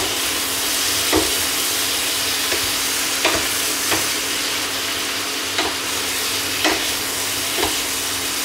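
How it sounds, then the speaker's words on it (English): Crispy pork belly with silk squash and onions stir-fries over high heat, a steady loud sizzle broken by about eight regular scraping clacks of the spatula against the pan. "stir fry all these ingredients together and then we can plate this"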